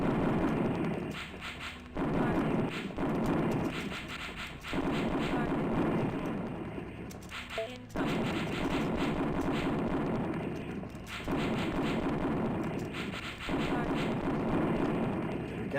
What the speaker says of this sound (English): we've got rockets now, but shooting these tanks with rockets is,